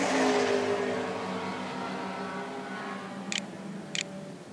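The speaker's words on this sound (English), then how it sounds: "Cameron Jones flying now, working his way up through the field in the mighty Mazda" Mazda race car on track during a circuit race, engine roar loud at first then fading into a steady distant drone, with two short high beeps near the end.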